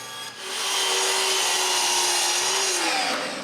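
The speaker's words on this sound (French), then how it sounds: "je peux m'occuper de couper l'espaceur qui va déplacer la table vers l'avant" A power tool cuts a wooden spacer for an edge sander build in a woodworking shop, a loud continuous whining buzz that starts abruptly, holds steady for about three seconds, then winds down.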